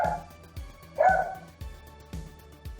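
A dog barks repeatedly at home, about six sharp woofs spaced roughly half a second apart, fairly close and loud, with one slightly longer yelp-like bark near the middle.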